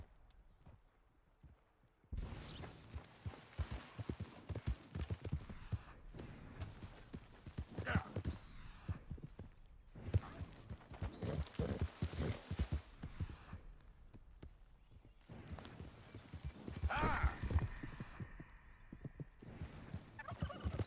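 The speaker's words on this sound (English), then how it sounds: "ride your horse fairly well to catch up to this Missouri Foxtrotter" Horse hooves clip-clopping at a quick uneven gait during a ride in Red Dead Redemption 2, faint and rhythmic, starting after a short quiet opening and running under occasional speech.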